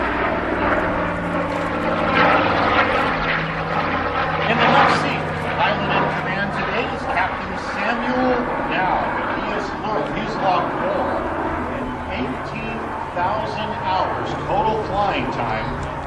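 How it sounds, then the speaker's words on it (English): A Douglas DC-4 four-engine propeller airliner makes a photo pass at an airshow, its engines droning steadily throughout beneath an announcer's amplified voice. "our 2 pilots today are going to bring this magnificent, majestic aircraft back around for a beautiful photo pass"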